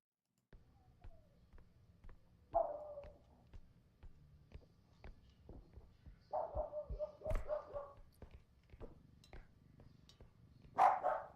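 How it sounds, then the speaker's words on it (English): A dog barks and yips in short bursts nearby, several sharp barks spread across the moment with quieter clicking and movement between them. "Shut your dog up, bro."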